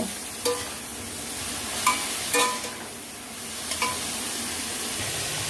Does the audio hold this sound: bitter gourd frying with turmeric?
yes